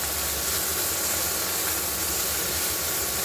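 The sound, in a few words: potatoes and onions frying in a pan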